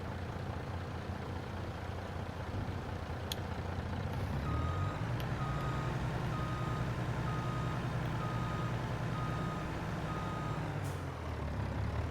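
A Farming Simulator 22 garbage compactor truck, styled like a Republic Services hauler, sounds a steady string of evenly spaced electronic reversing beeps over its idling diesel engine, with a brief air-brake hiss near the end.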